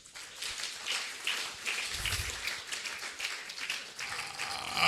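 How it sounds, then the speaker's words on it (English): Crowd applause at a national steering committee meeting, a steady wash of many hands clapping for about five seconds, moderately loud and swelling slightly toward the end. "A round of applause again."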